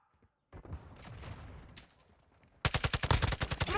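Rapid bursts of automatic gunfire in Modern Warfare 2 ring out loud and close after a stretch of quieter game noise, a tight rhythmic volley of shots closing out the moment.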